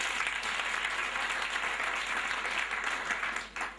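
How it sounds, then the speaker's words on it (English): Applause fills a grade 12 school farewell ceremony, a dense, continuous crowd clapping that holds steady and loud before dipping briefly near the end. "Clap hands for me again."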